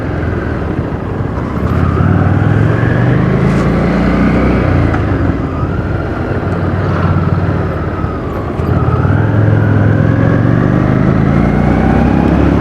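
A Harley-Davidson Street 750 motorcycle ridden on the road, its engine droning loud and close with steady rumble and wind roar, pitch rising and falling through gear changes and throttle shifts, with a brief dip before picking back up.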